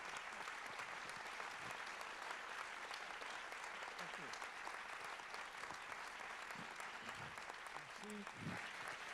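Sustained audience applause at a festival's closing evening, dense and steady clapping from a crowd throughout, with a few voices underneath near the end.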